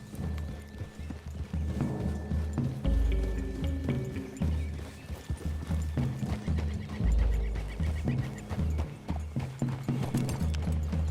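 Horse hooves clop in an irregular rhythm on soft ground, with snorts and whinnies close by, under a faint sustained musical tone, in the video game Red Dead Redemption 2.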